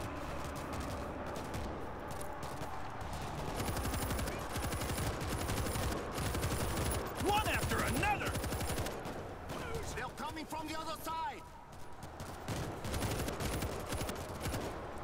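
Turret gunfire in the zombie shooter World War Z, with sustained rapid bursts of automatic fire and a chaotic battle din throughout, loud and continuous, while someone speaks over it.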